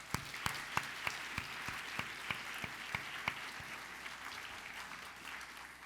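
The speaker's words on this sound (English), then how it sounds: "Another hand of applause." Audience applause at the National Book Critics Circle Awards ceremony: a steady wash of many hands clapping, with a few sharp individual claps standing out early before the sound thins and fades, heard at a moderate distance.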